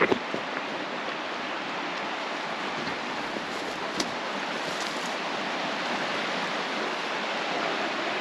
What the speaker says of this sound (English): we're right on the banks of the Toad River.